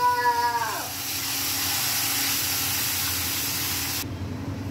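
Sambar poured into a hot tempering of oil, red chillies and curry leaves gives a sudden loud hiss that settles into a continuous, steady sizzle lasting several seconds, with a brief tonal squeal at the very start.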